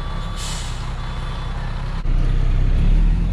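A dump truck backing up on the road: a loud, steady diesel engine rumble with air-brake hiss, continuing close and without talk; any reversing beeps are buried in the engine noise.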